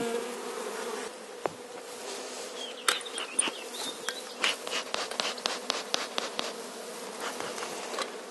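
Honeybees buzzing at a Kenyan top-bar hive, a steady close drone with brief louder passes and scattered ticks as individual bees fly near.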